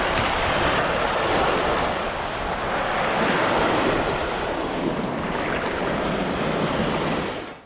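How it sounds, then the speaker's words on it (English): Ocean waves wash onto a Destin beach in the off season, a dense continuous roar of surf with gentle swells in loudness and some wind buffeting, close and without voices. "just the sound of the waves"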